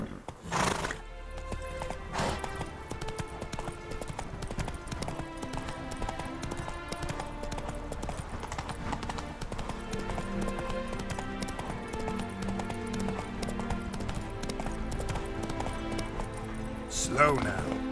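Roach, the Witcher 3 horse, gallops with continuous hoofbeats and an occasional whinny, set within busy game music and ambience, with a voice heard at times.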